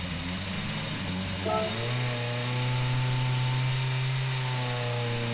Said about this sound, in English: What's that beetle sound like on the startup?